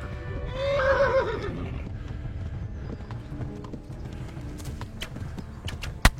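A horse in a video game gives a clear whinny early on, followed by quieter hoofbeats and scattered clicks and thumps, with one sharp knock near the end.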